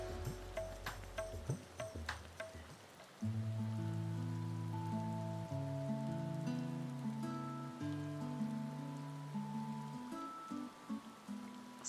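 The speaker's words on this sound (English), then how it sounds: "It's not usually raining, by the way. This isn't normal." Steady rainfall in Final Fantasy XIV patters across the whole scene as a soft continuous wash, with layered game music and tonal effects over it and no talking.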